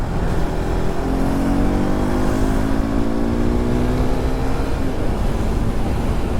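A KTM RC 390 motorcycle on a ride from Mumbai to Lonavala gives a steady, loud engine drone under rushing wind, with the pitch climbing as the rider revs through the middle of the run.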